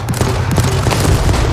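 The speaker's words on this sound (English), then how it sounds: "Was that a pistol shooting on us?" Gunfire rings out during a World War 3 video game match, a dense, loud run of overlapping cracks and thuds heard close and continuing throughout, with no voices.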